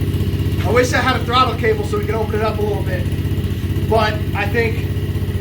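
A 90cc Pantera mini bike engine with an aftermarket exhaust idles in a steady, close, low-pitched putter throughout, with someone talking over it.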